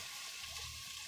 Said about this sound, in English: And I'm going to saute my mushrooms in a separate pan.